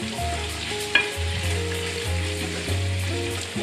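Chicken pieces sizzle on a very hot grill, a loud, close, continuous frying hiss with a small crackling pop near the start and faint shifting underneath.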